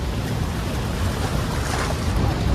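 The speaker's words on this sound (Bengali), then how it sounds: "এখানে অনবরত জলের একটা স্রোত ভেসে আসছে, ধাক্কা দিচ্ছে" Continuous broadband roar of rushing water at Chitrakoot Waterfall near Jagdalpur, heard steady and loud from the lower viewpoint, with wind buffeting the microphone and no voices.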